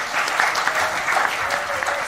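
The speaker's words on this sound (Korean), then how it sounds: "다시 한번 박수 부탁드립니다" Steady audience applause at a political talk event, a dense wash of many hands clapping at even loudness throughout, with no distinct voices on top.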